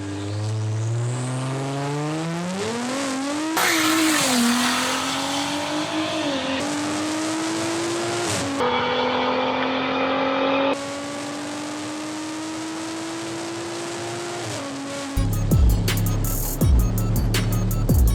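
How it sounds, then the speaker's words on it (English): An Audi SQ5 launches down a drag strip, its engine rumbling loudly and climbing through rising revs with brief drops at each gear change. The note holds steady before the sound turns to rough, choppy noise at the end. "This SQ5 really has a crazy rumble to it."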